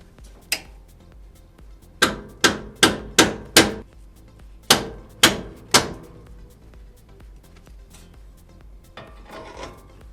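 Metal-on-metal hammer blows strike a 5th Gen 4Runner suspension spindle during an Icon Stage 2 lift kit install, one early hit followed by two quick bursts of about five and three ringing strikes, close and loud.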